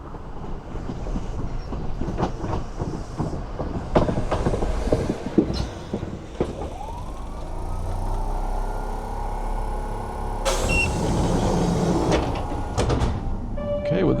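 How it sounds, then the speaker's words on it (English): A Kintetsu Suzuka Line train rolls toward the last station, Ise-Wakamatsu, with a steady rumble, wheel clatter and a rising brake or motor whine, while a voice talks over the ride. "this is the last train ride, the last bit of the Kintetsu Suzuka Line to the last station, Ise-Wakamatsu"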